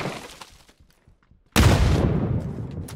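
Two grenades go off in PUBG in a sudden loud blast that erupts after a near-quiet stretch of faint ticks, leaving a long rumbling, crackling tail.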